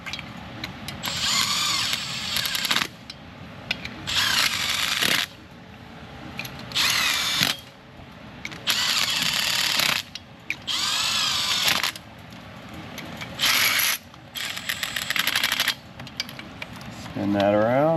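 A quarter-inch power driver fitted with a wobble 15 mm socket spins Jeep cylinder head bolts down in eight loud, close whirring bursts of one to two seconds each, separated by short pauses, with a voice briefly heard between them.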